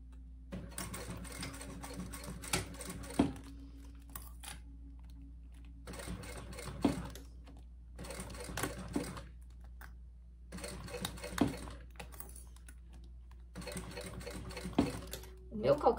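A sewing machine stitching along the edge of a bag with a presser foot, set to stitch length 5 or 4.5, runs in bursts of rapid mechanical chatter separated by short pauses, with a person speaking between runs.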